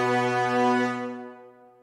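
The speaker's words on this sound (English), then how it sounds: "In the brass section, we have a recording of trombones and horns bending a note down." Orchestral brass sample of trombones and horns sustaining a rich chord that bends downward in pitch and fades out over under two seconds, heard alone.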